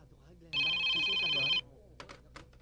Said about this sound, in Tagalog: Cellphone ni Glenda yan, tumutunog.